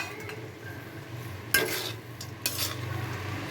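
Flattened rice with peanuts and raisins frying in a pan: a soft, steady sizzle with two sharp scrapes of a spatula against the metal, close by and with no talk.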